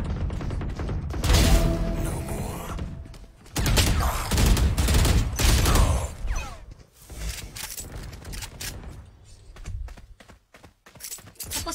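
Rapid bursts of gunfire in a shooter video game played in a 1v1 match, dense clattering volleys that come and go in waves, loud and close with brief lulls between exchanges.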